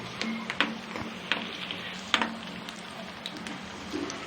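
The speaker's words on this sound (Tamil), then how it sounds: "வெங்காயம் நல்லா எண்ணெயில் வேகட்டும்." Chopped onions fry in hot oil in a pan, giving a steady soft sizzling hiss broken by small crackles and pops, fairly close and without talk.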